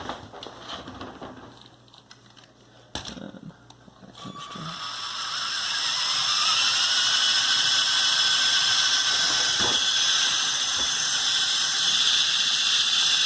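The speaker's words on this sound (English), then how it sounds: "Getting nice and fast thanks to a buggy motor in each wing" Lego Technic model of a Canadair CL-84, each wing carrying a buggy motor geared down to spin the front rotors. Quiet mechanical clicks come first, then a whine rises in pitch and holds as a steady high drone.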